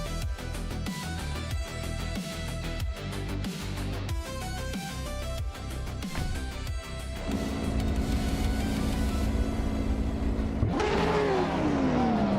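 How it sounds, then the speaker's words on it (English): Race car engines rev and roar at the start of a race, with rapid repeated revving bursts, then a sustained high whine and a rising pitch sweep as the cars accelerate away, loud and close. "the race has just kicked off at Central, and Yamchabu Panda is starting on pole"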